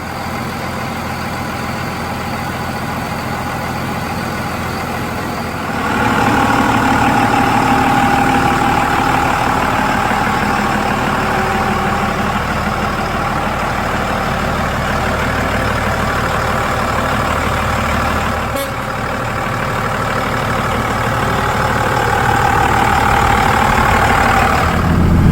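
Truck engine humming steadily while driving on the road, a constant close drone from inside the cab that swells slightly in load partway through, with no talk.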